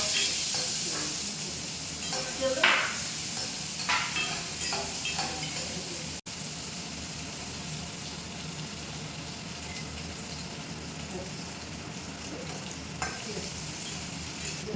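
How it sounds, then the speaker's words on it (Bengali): Onion and green chillies fry in a pan with a steady, close sizzle, broken by a few louder scrapes and clinks of stirring early on. No one speaks. "পেঁয়াজ আর কাঁচা লঙ্কাটাকে একটু লাল লাল করে ভেজে নেওয়ার পরে"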